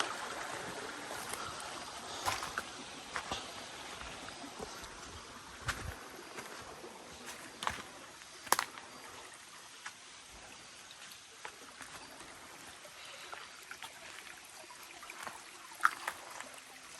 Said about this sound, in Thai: ได้ลงมา ถึงน้ำตกแล้วนะทุกคน นี่ น้ำตกสายนี้นะ